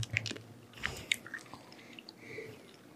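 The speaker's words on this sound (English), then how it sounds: "are you gonna keep chewing it?" Crunchy liver and onions flavored dog food being chewed by a person, with irregular close bites and crisp crunches scattered over a few seconds, fairly quiet and with no talking.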